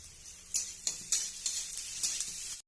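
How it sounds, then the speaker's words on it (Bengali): Soybean, potato and egg curry sizzles in a pan while a utensil stirs it, sharp scraping strikes coming in an uneven rhythm over the steady frying, close up and without talk before an abrupt stop. "ভালো করে নেড়ে চেড়ে নিচ্ছি।"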